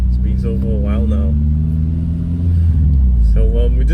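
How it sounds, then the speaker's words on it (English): A JDM-spec Honda EP3 Civic Type-R engine idles and warms up at steady low rumble, with slight rev swells in the middle and near the end, while a voice talks faintly in the background. "So we're just warming up the car"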